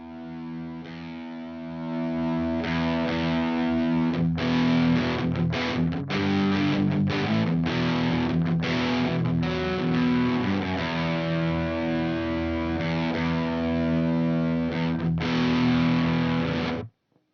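An electric guitar runs through an experimental fuzz modulation pedal, producing dense, sustained distorted tones with warbling, stuttering modulation and choppy breaks, loud and continuous for about sixteen seconds before cutting off, with no talking.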